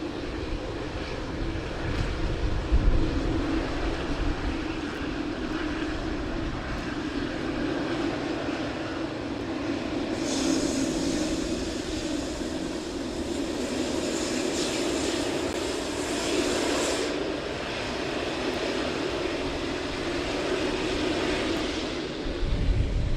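A fixed-wing airliner takes off at Sydney Airport, its engine roar building into a loud, steady rumble that swells and holds for over twenty seconds with no talk over it.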